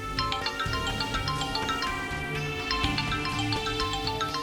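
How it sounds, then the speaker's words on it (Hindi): A phone ringtone rings in a domestic TV drama scene, with a steady melodic pattern of repeating tones playing alone for several seconds, with no voices. "अगर किसी ने तुझे देखा नहीं तो ये इंस्पेक्टर फोन क्यों कर रहा है?"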